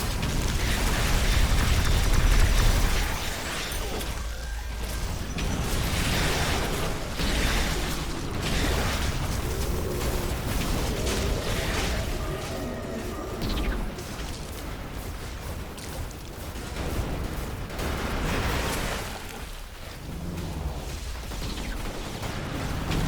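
Tower blowing up in The Riftbreaker video game: a heavy, rumbling explosion opening the stretch, then a long churn of booms, bursts and mechanical crashing that rolls on and fades and swells, no voices heard.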